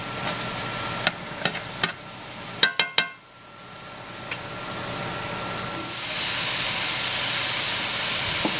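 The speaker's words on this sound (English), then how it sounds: "I'm just going to stir that in and finish cooking the meat" Seasoned ground beef cooking in a pan gives off a steady hiss and sizzle, with several sharp clicks and scrapes of stirring early on. The sizzle swells louder toward the end.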